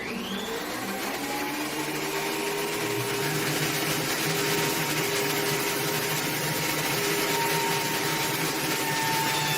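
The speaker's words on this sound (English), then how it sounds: "by planing the boards like I am now, we'll have very clean edges" Power planer shaving old cedar boards milled from a century-old barn beam, a loud sustained whining drone with a rising spin-up at the start, steady and close throughout.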